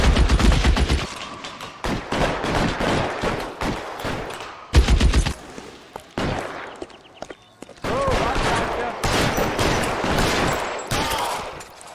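Rapid bursts of gunfire in L.A. Noire, loud close machine-gun rattles and single shots in several clusters with short gaps between, set against game noise and occasional speech.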